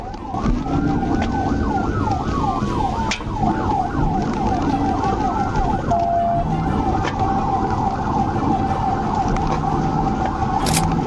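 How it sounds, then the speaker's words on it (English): A police car siren wails and yelps continuously during a highway dashcam chase of a stolen Dodge Ram, loud and close over steady engine and road noise. "ignoring the police lights and sirens"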